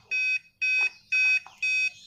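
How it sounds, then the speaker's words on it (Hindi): A buzzer on an SMPS power supply PCB under repair beeps four times in an even rhythm, each tone loud, shrill and steady, with short gaps between and faint background noise. "तो ये इसकी बजर है, बीप है जो आवाज़ कर रही है।"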